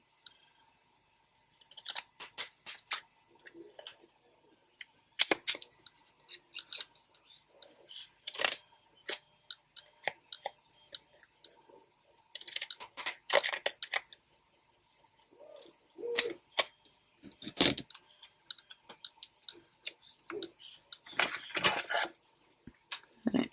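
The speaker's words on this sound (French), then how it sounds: "Les ciseaux cranteurs ne coupent pas vraiment bien" Pinking shears snip through paper in a run of short, sharp, irregular crunching cuts, close and fairly quiet, with brief pauses between bursts.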